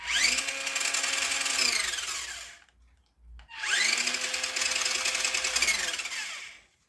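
A throttled hobby-grade RC truck conversion, two ESCs fed from one battery through a splitter, whines in two long bursts separated by a brief pause, its motor buzzing with harsh grinding from stripped gears.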